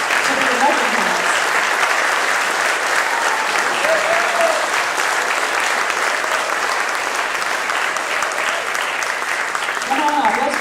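An audience claps loudly and continuously for award recipients called to a stage, a dense, even wash of applause lasting throughout, with voices cheering briefly over it.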